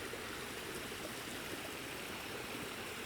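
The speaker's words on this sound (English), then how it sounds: "the first thing we're going to see is a really nice little waterfall" A small waterfall on a gloomy-day Lake District hike rushes in a steady, even wash of flowing water, soft and continuous, with no voices.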